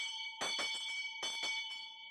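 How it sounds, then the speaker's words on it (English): An exam station timing bell ringing twice in quick pairs, clear metallic strikes with a long sustained tone hanging between them, moderately loud in a quiet space. "10 minutes after the start of the station, a bell will again ring,"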